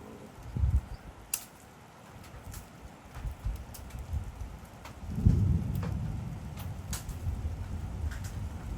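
Rain falls steadily during a thunderstorm at a cattle pasture's water gap electric fence, with scattered sharp drops and a deep rumble of thunder swelling midway and lingering to the end.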